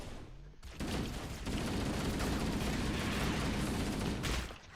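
Halo: Combat Evolved plays sustained rapid gunfire from a hand cannon pistol, with dense overlapping shots that start abruptly and hold loud for several seconds before trailing off.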